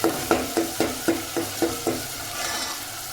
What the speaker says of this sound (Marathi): हिरवी मिरची आणि लसूण बारीक केला होता, कोथिंबीर, हे टाकून घ्यायचं आहे. त्याला छान 2 ते 3 मिनिट तेलात परतून घ्यायचं आहे.